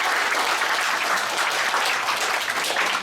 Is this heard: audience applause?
yes